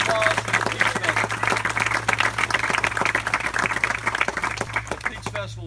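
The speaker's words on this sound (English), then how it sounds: "give Judy and her, Ivana and her entire staff a round of applause for the Peach Festival" An outdoor crowd at a ribbon-cutting ceremony applauds the Peach Festival staff. Many hands clap in a thick, continuous patter with voices mixed in, loud and close, tapering slightly at the end.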